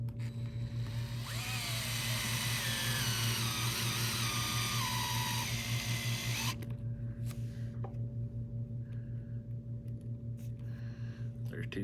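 A small power screwdriver drives two screws into the front brace of a Hack Fab Mini-B sprint car kit, whining steadily for several seconds, then a few brief clicks and handling noises as someone talks over a low hum.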